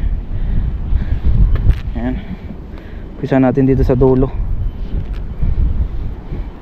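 Strong wind at sea roars continuously around a fishing boat, heavy and close throughout, with someone talking briefly over the gusts.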